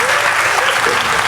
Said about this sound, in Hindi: जरा जोरदार तालियां एक बार बजाइए